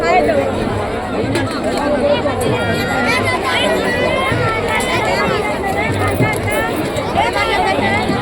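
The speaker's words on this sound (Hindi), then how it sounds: "बहुत ही भीड़।" Thick, unbroken hubbub of a huge pilgrim crowd at the Maha Kumbh in Prayagraj heading toward the Triveni, countless overlapping voices and movement filling the space at steady loudness.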